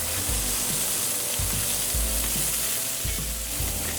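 Cooked pork hits a hot pan and sizzles steadily, with loud frying hiss and several low thumps and scrapes as it is stirred.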